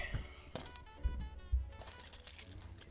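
A few light metallic jingles and clinks, keys shaken in short bursts, close and fairly quiet amid faint background noise.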